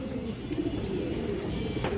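Low, soft cooing from a pigeon, one of a mated pair of fancy pigeons, steady under faint background noise with a few light ticks and no talking.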